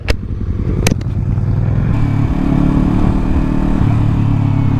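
A motorcycle engine roars loud and close during a ride on the road, with a couple of sharp clanks early on, then a steady, throbbing drone as it holds speed, with no talking.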